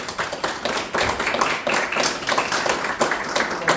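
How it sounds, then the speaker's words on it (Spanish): An audience applauds at a December book event, with dense, steady clapping from many hands throughout. "Un gran aplauso para Natalia Pérez"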